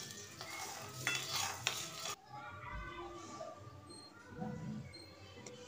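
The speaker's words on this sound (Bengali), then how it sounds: "এভাবে ধীরে ধীরে নেড়ে নেড়ে আমি কলাইগুলো গরম করে নেব।" Lentils are stirred slowly in a cooking pot as they heat, with a spoon scraping and clinking against the metal in a steady, close, fairly quiet rhythm.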